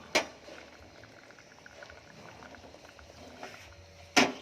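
Catfish and vegetables boil in a pot with a soft, steady bubbling that stays faint and close, broken by a sharp click near the start and another near the end.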